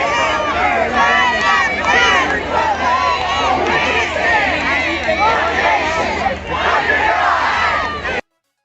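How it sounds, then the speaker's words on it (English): A large crowd roars and chatters continuously, dense overlapping voices and shouts filling the space at a loud, steady level before cutting off abruptly. "The crowd is big."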